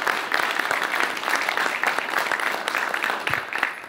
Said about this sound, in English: So Karen, another round of applause.